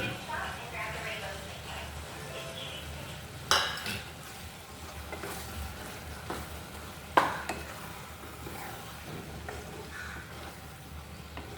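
Fried prawns stirred into a tomato curry in a pan, with a soft continuous sizzle, scraping stir strokes and two sharp utensil clinks, under a talking voice.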